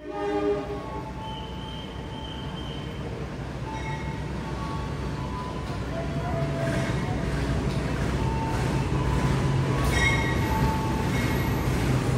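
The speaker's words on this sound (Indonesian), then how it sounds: "Kereta api Pasundan persiapan masuk di jalur nomor 1 ya." A Pasundan passenger train pulls into a crowded station platform, its continuous rumble and wheel noise building steadily, with horn-like tones sounding throughout the approach.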